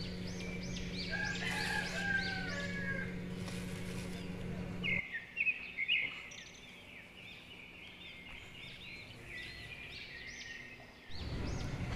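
Farm chickens cluck and a rooster crows in repeated calls at middle distance, with a low steady hum under the first half that then drops away.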